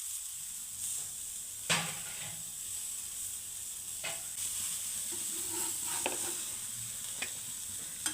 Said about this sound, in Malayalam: ഇനി നമുക്ക് ആ ക്യാരറ്റ് ഉണ്ടല്ലോ അതിനെ പറക്കി അടുത്തത് അതിനെ മൂപ്പിച്ചെടുക്കാം.